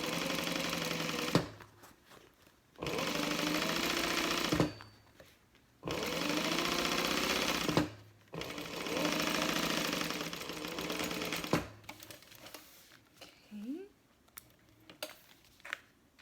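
A sewing machine topstitches a fabric bag in several close, steady bursts of fast mechanical whirring, separated by short pauses and quiet handling sounds.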